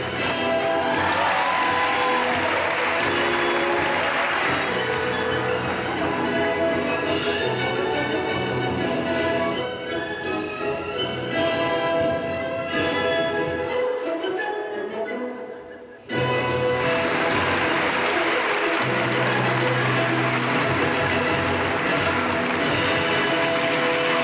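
Audience clapping and cheering for buskers at a street show, a dense, sustained crowd roar that dips briefly then surges back loudly, with music and voices mixed in.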